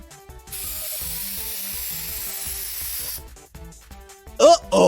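Cartoon spray effect: a short burst of bright hissing spray lasting a few seconds, with softer bits of voice and sound effects around it and a brief louder sound at the end.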